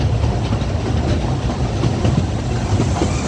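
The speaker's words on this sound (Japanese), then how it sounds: "列車がカーブに立ちかかると車輪とレールからキーキー音が鳴ります。" The Kurobe Gorge trolley train runs along its rails, a loud, close, continuous rumble with a dense rattling clatter of wheels over track, steady throughout with no voices.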